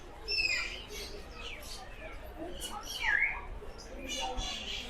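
Lovebirds and budgies chirp in a walk-in aviary at Alipore Zoo, Kolkata, with scattered high tweets and calls over a steady, busy background.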